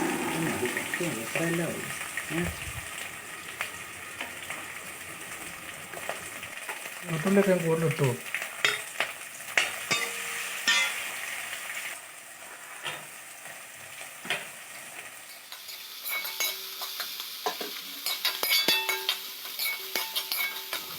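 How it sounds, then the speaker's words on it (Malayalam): Green chillies, crushed ginger and garlic, and coconut pieces sauté in a pan for a clam fry, with steady frying and stirring sounds and occasional utensil clinks throughout. "ഇതിലേക്ക് അരിഞ്ഞു വെച്ചിട്ടുള്ള പച്ചമുളകും ചതച്ച ഇഞ്ചി വെളുത്തുള്ളിയും തേങ്ങാക്കൊത്തും ചേർത്ത് നന്നായിട്ടൊന്ന് മൂപ്പിച്ചെടുക്കാം"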